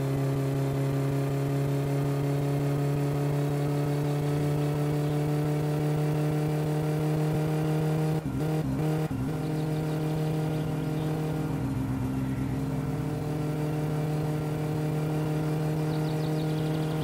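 The old car engine in My Summer Car runs steadily at a low idle-like drone with strong even harmonics, briefly stuttering and cutting out partway through before resuming, then rising slightly as if revved.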